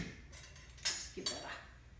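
Pasta e fagioli soup with garlic, thyme and oregano stirred in a pot, giving a couple of quiet clinks and scrapes of a utensil against the pot over faint background noise.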